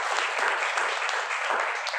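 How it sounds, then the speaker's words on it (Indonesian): An audience claps steadily at a talk on paying off debt, a dense, even wash of applause from many hands throughout, with no speech. "Tepuk tangan untuk PTBS."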